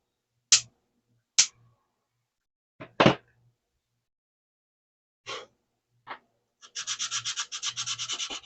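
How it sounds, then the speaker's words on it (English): Parts of a Hellboy prop gun are sanded by hand in short, separate scrapes, then a quick run of rapid, even back-and-forth strokes near the end, close and fairly quiet with no talking. "That's why going through and dry fitting and seeing what parts really have to get sanded."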